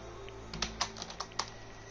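A few scattered keystrokes clatter on a computer keyboard sitting on a desk, sharp and close against a low steady hum, with no one talking.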